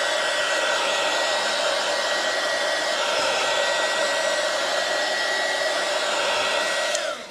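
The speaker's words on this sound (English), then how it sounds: "We're going to hit this with the heat gun real quick" A heat gun blasts over epoxy resin coins, a steady, loud airy whoosh with a constant motor hum running unbroken for several seconds, close to the microphone, then cutting off abruptly at the end, with no voices.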